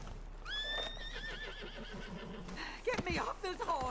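A horse whinnies loudly with a rising, wavering call in Red Dead Redemption 2, followed by hooves and shouting voices in a busy game scene.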